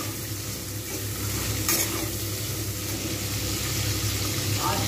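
Shrimp fry steadily in hot oil, giving a continuous dense sizzle with one brief sharper crackle midway, close and fairly loud with no talking.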